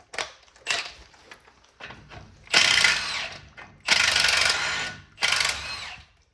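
A ratchet wrench works a 9/16 bolt on the brake caliper of a 1978 Ford Bronco's Dana 44 axle, with short clicking bursts at first and then three longer, loud runs of rapid ratcheting, close up and with no talking.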